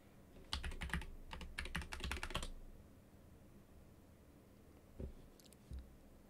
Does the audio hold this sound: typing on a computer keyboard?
yes